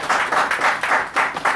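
Audience clapping at a sports felicitation ceremony honouring a woman sports journalist, a dense, steady round of applause from a gathered crowd, fairly loud and continuous with no talking over it.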